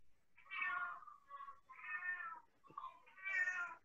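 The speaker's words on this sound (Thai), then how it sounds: "คุณครูได้ยินเสียงแมวใครเนาะใครยังไม่ปิดไมค์คะ" A cat meows repeatedly through an open microphone during an online primary-school English lesson, four drawn-out, moderately loud calls in close succession with short gaps, heard alone without talk.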